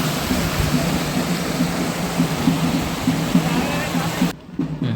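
A loud, steady rush of flowing water near the Edupayala Vana Durga temple in Medak fills the clip, continuous and close, then cuts off abruptly just before the end.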